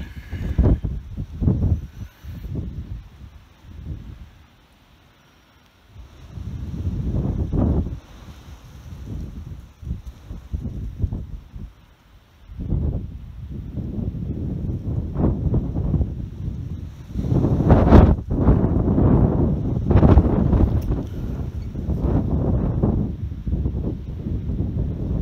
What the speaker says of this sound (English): Always windy on Santa Rosa.